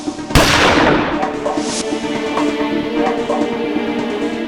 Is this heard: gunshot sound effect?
yes